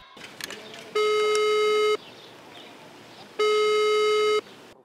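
A telephone busy signal sounds two steady, loud beeps, each about a second long, separated by a pause, with faint background noise between them.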